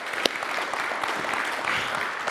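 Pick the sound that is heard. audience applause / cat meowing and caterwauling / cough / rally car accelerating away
audience applause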